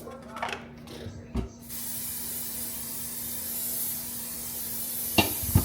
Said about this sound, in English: this is my cooking spray